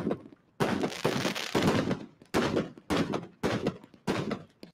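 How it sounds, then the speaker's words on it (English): Fireworks go off at the groundbreaking of Tesla's Shanghai factory, six or seven loud separate bursts with crackling tails, spaced about half a second to a second apart, with no talk over them. "they're shooting off fireworks"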